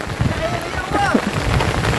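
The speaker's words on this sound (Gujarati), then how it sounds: "હે ભાઈ કેવો વરસાદ વીર્યો" Heavy unseasonal rain pours down on farmland in Gujarat in a steady, dense hiss, with faint murmuring voices underneath.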